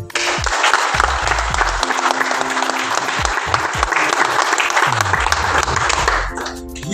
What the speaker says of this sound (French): je salue vivement, avec applaudissements s'il vous plaît